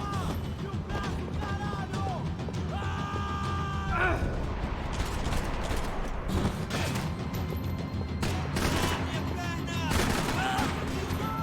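Gunfire from the shooter game Max Payne 3, a dense stretch of sharp shots and bursts with crashes and mechanical clatter, continuous throughout and mixed with game sounds.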